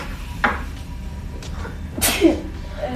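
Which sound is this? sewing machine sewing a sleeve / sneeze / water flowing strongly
sneeze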